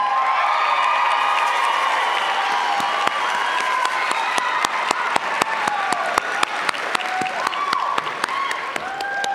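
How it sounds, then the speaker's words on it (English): A pageant audience at the Ms. Utah for America Strong competition breaks into sustained applause and cheering for the contestants, with a steady crowd roar, sharp individual claps and whoops throughout, and a voice briefly calling out over it. "Another round of applause for all the Ms. Utah for America Strong contestants."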